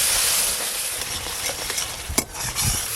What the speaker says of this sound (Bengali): বেটে রাখা মশলা, হলুদ গুঁড়ো, পরিমাণ মতো লবণ, সামান্য একটু জল দিয়ে মশলাটা আর একটু ভালো করে কষে নেব।